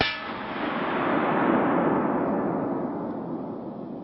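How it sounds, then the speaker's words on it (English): A .338 Win Mag rifle fires a 225 grain Hornady SST round that strikes a Level III+ armor plate, a single sharp crack and clang that fades over a few seconds. "shoot more higher right on the plate with the 338 Win Mag 225 grain Hornady SSTs"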